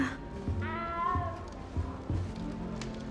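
A cat meows in Hogwarts Legacy, one clear harmonic mew in the middle over a low, rhythmic background of game ambience and thuds, with no talking.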